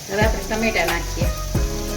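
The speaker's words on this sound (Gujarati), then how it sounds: "હવે આપણે ટમેટા નાખીએ." Tomatoes going into a hot pan with crushed ginger, garlic and salt, bright sizzling and frying with stirring knocks, close and fairly loud.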